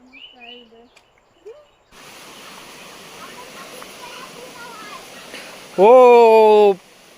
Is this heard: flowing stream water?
yes